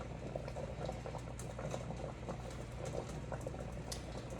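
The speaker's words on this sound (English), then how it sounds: "So they're still back there just rapidly boiling." A pot of water at a rapid rolling boil while tomatoes are canned, giving a steady bubbling, hissing roil with small pops, continuous and fairly quiet, no voices.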